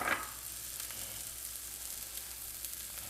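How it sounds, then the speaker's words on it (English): A breakfast burrito filled with egg, veggies and cheese toasts in a pan, giving a soft steady sizzle with a brief louder crackle at the start, no talking. "While that's toasting, it's gonna help melt the cheese."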